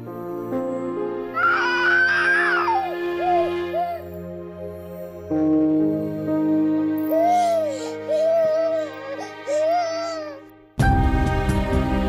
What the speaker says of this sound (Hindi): बाबू ये बच्चा रो रहा है।